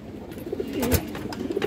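Domestic pigeons, including a female, give a brief, soft, throaty coo close by in a short, quiet moment with no talking.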